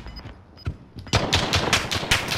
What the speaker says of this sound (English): I shot him 20 times and missed